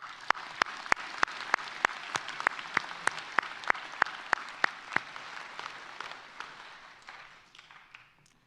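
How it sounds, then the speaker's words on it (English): Commencement ceremony audience at the University of Western Ontario applauding graduates' families, a steady wash of clapping with sharp camera-like clicks, gradually fading toward the end. "Please, a round of applause for your loved ones."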